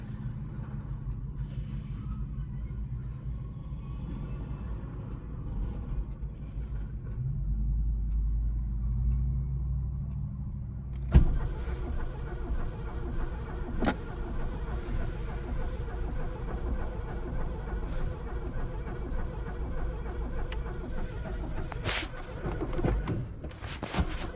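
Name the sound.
1979 Volkswagen Dasher engine cranking, failing to start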